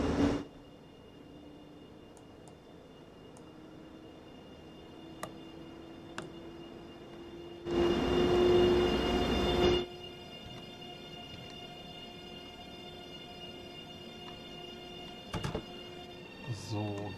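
BR 187 electric locomotive departing in Train Sim World 2: a quiet, steady electric hum and ticking run throughout, with a louder two-second rush of noise in the middle and a few faint clicks and knocks.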